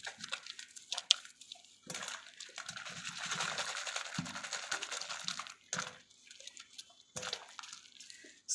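Water splashes and trickles while hair lathered with a homemade lye-and-oil liquid soap shampoo is rinsed, in soft, intermittent bursts with brief pauses and a few drips, fairly quiet and close.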